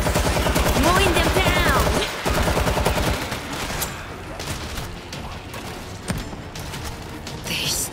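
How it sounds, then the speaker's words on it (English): Rapid machine gun fire rattles loudly and continuously in a zombie siege shooter set in Tokyo, dense with overlapping shots and booms, tapering into scattered bursts toward the end. "Machine guns locked in."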